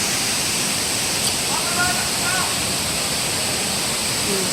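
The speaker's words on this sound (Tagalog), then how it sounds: "Yung falls." A waterfall at a river in Infanta, Quezon, Philippines, roaring as a steady, dense broadband wash that stays constant throughout, with a few faint higher tones over the rush.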